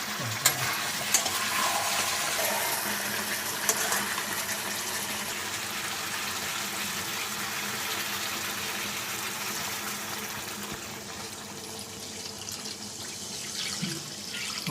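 Water runs steadily into a pot of Odia-style chicken curry, a continuous broadband pour lasting the whole stretch at a fairly even level, with no voices.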